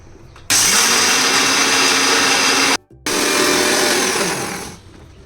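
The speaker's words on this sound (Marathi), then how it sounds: "भाजलेले शेंगदाणे मिक्सरच्या भांड्यामध्ये टाकून त्याची बारीक पेस्ट करून घेऊयात." A mixer grinder pulverises roasted peanuts into a fine paste for flour biscuits, a loud close whirring motor that runs, cuts out briefly, restarts and winds down.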